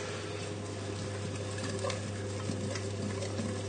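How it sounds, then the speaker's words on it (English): Pieces coated in hot fat are swirled gently around a roasting pan, making a quiet, continuous shuffling scrape with faint sizzling close by. "So just swirling them around the pan like this."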